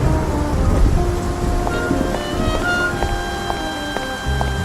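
Steady rain falls on a city street in New York in the Face Noir game, a dense, even hiss with soft patters, faint tonal music beneath and a low rumble near the end.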